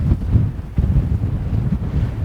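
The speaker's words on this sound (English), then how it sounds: "It's going to be windy today." Wind gusts across a desert mountain ridge trail on the Pacific Crest Trail in Anza-Borrego, buffeting the microphone with steady low rumbling bursts and surges, no voices.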